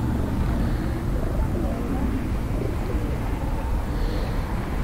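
Low pigeon coos drift through a garden, faint and somewhat distant, blending into continuous outdoor ambience for several seconds.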